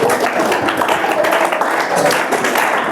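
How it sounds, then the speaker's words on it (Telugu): An audience clapping in a hall, a dense, continuous wash of applause that stays loud and even for the whole few seconds. "ఒరే అందరు చప్పట్లు కొట్టండి."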